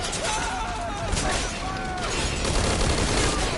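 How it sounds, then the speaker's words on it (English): Enemy soldiers open fire in Metal Gear Solid V: Ground Zeroes, a dense, continuous rattle of gunfire filling the scene at steady loudness, with a voice faintly present underneath. "they're just opening fire with these guys in the way"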